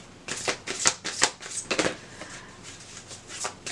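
Crisp, repeated riffle-and-slap bursts of tarot cards being shuffled close up, in quick uneven pulses with no talking.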